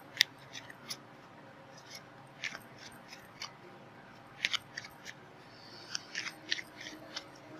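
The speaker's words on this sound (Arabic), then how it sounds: "انا طبعا بقلب الورق كتير بس عشان يبقى ايه مظبوط" Tarot cards being shuffled by hand, a quiet, close series of soft papery flicks and snaps arriving in irregular clusters over a faint background.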